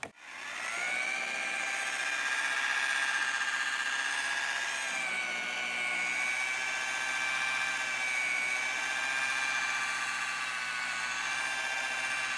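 A rotary polisher working car clear coat after wet sanding holds a steady, whining motor tone at moderate speed, loud and close, with small shifts in pitch as it moves across the panel.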